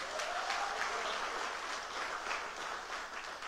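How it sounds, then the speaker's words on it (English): Steady applause from a crowd at a political public meeting in Arima, a dense wash of clapping that holds at an even level throughout. "Give them a round of applause."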